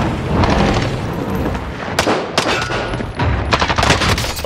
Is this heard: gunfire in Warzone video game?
yes